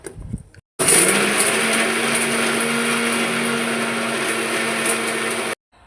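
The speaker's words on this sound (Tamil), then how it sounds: "பேஸ்ட் போல் அரைச்சி எடுத்துக்கலாம்" Kitchen blender grinding spices such as cinnamon, cloves and pepper into a paste, a loud, steady motor whir that starts abruptly, runs for several seconds and then stops, with no talking.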